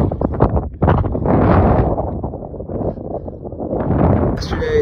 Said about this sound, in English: This gust isn't gonna blow my car away